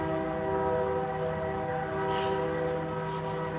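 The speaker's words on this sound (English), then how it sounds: "Train's going by." A train rolls past steadily at a moderate distance, a continuous rumble with a tonal whine held throughout, no voices over it.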